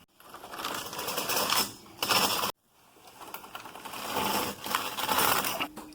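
A Brother or Superba knitting machine carriage sweeps across the needle bed twice, each pass a loud rattling, clattering whir that stops abruptly before the second row begins.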